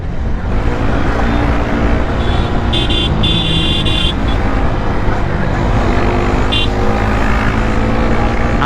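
Army vehicles chasing bikers on motorbikes, a loud close roar of engines and traffic with a couple of horn toots partway through.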